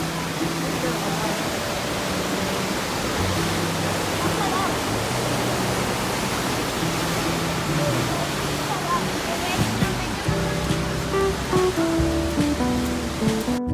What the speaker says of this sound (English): See how we enjoyed documenting the big waves of the Adriatic Sea below the walls of the old town.